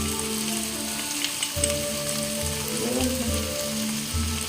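Ridge gourd fries in a pan with a constant sizzle, broken by occasional scraping stirs and low knocks against the pan, close up, with no one talking.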